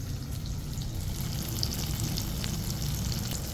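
Tofu fries in oil that is not very hot, with a steady, soft crackling sizzle, close by and continuous, with no talking.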